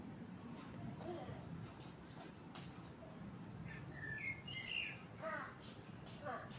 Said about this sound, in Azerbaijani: Quşun səsini qulaq asın.